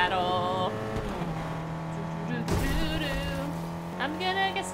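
A car driving in the Fortnite video game, its steady engine drone humming continuously under layered electronic game tones and effects.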